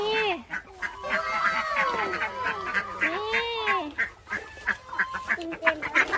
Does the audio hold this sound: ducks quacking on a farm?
yes